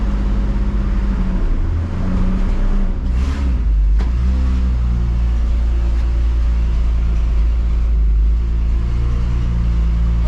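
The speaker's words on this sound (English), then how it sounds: "We're driving right now, ain't we?" Chevrolet C20 pickup truck driving, its engine a loud, constant low rumble heard from inside the cab with a slight rise and fall in revs and no talking over it.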